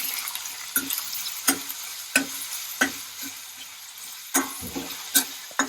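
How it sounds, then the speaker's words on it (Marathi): Tomato and onion are fried and stirred in a pan, a steady sizzle broken by regular sharp scraping strokes of the spoon roughly every half second to second, close and moderately loud with no talking. "मी पहिले टॉमॅटो टाकून देत आहे ओनियन टाकून देत आहे आणि आपल्याला याला चांगलं लाल रंग येईपर्यंत परतून घ्यायचं आहे"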